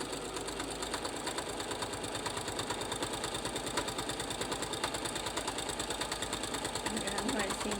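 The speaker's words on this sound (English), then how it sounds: "now I'm going to sew right straight down on that end" A sewing machine runs a straight seam in a fast, even mechanical chatter of needle strokes that holds steady from start to finish, with a voice talking over it now and then.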